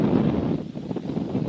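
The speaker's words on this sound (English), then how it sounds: "it sounds like it's getting windier even as we speak to you" Strong wind buffets the microphone at sea aboard a Volvo Ocean Race 2014-15 yacht, a steady, close, rumbling roar with gusty rustling and no speech.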